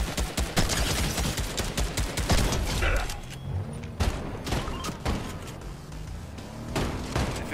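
Turrets in a video game fire in dense, rapid bursts, loud and close, easing briefly in the middle before the barrage picks up again.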